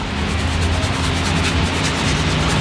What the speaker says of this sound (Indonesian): kalian gosok gini nih.